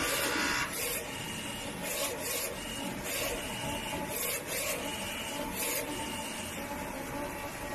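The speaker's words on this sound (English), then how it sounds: "Then the printer will start to print a vertical test picture out." A DTF printer runs a vertical test print for print head calibration, giving a steady mechanical whir with repeated carriage passes and short bursts of brighter noise at roughly even intervals, heard close and alone.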